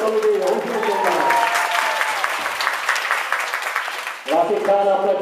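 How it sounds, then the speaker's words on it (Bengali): An audience at an annual Bijoy Dibas celebration program bursts into loud, sustained applause for a choreographer, with a voice speaking over the opening and again at the end. "আমরা সবাই তাকে আরেকটি জোরে করতালি দিয়ে অভিনন্দন জানাই।"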